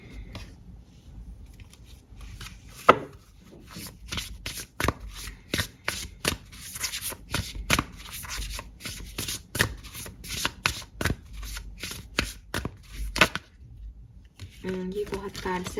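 Tarot cards shuffled by hand in a series of crisp, rapid riffling and slapping bursts, close and fairly quiet, with brief pauses and a short stretch of soft speech near the end.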